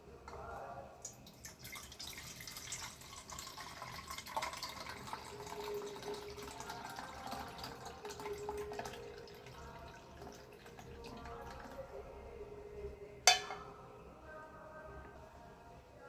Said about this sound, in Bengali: যেই পাত্রটার মধ্যে আমি দইটা বসাবো সেইটার মধ্যে আমি দুধটা ঢেলে দিচ্ছি।